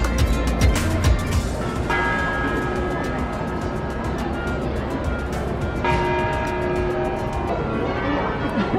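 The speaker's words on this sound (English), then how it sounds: "Bells are going crazy." Church bells ring out across Venice near St. Mark's Square, their steady tolling layered over a busy waterfront hum with boat and crowd noise, fairly distant and continuous.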